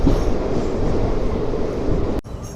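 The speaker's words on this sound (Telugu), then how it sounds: "మన ట్రైన్ కానీ చూసుకుంటే ప్లాట్ఫామ్ నెంబర్ 2కి అయితే వచ్చింది పక్కల జంక్షన్కి అయితే." Seshadri Express pulls into platform 2 at Pakala Junction with a dense, loud rolling rumble and rail clatter that drops abruptly near the end.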